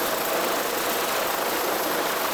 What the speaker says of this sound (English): It's so close, like it's right there, the helicopter hovering right above us.